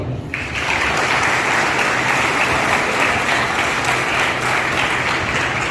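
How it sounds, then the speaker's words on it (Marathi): Sustained applause from a large crowd, dense and steady throughout, loud and close with no voices standing out. "सर्वांनी एकदा आपल्या स्वतःसाठी टाळ्या वाजवा"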